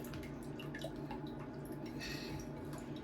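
Water poured slowly around the edge of an orchid pot, away from the stem, with soft continuous trickling and dripping that stays steady and close throughout.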